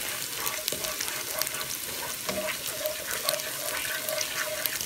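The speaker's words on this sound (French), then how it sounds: "Je mets juste les oignons, l'ail, gingembre et c'est tout, je mélange." Onions, garlic and ginger fry in a pan for rice with peas, a soft steady sizzle with light stirring scrapes throughout, fairly quiet and without talk.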